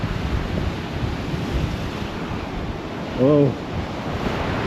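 Wind-driven sea waves roll and wash steadily at Folkestone on a blustery day, with constant wind buffeting the microphone and a brief spoken exclamation near the end.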